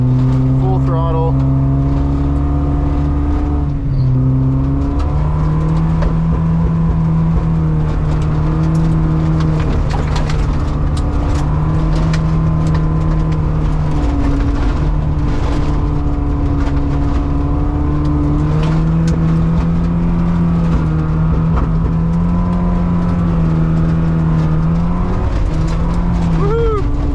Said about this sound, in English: This is full throttle. It's definitely not fast.